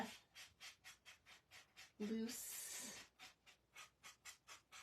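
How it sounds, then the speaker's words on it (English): Rhythmic back-and-forth rubbing of a sanding block, steady strokes close by, briefly interrupted by a louder scuff and a short low vocal sound. "Take a little sanding block here. I'm just gonna buff out the"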